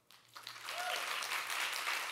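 An audience claps hands at a live talk event, the applause swelling within a fraction of a second into a dense, steady patter of many hands that stays fairly loud to the end.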